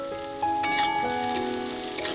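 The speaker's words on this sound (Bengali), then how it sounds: "গোটা জিরে দিয়ে দিলাম, একটা বড় সাইজের পেঁয়াজ কুচি দিয়ে দিলাম" Whole cumin seeds and a large chopped onion sizzle and crackle in hot oil in a pan, with a steady frying hiss, a few sharp pops and the light scrape of stirring up close.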